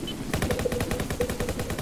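Gunfire in the Roblox-style game Jailbreak comes as a rapid burst of regular shots, like an automatic weapon, steady and fairly close for under two seconds.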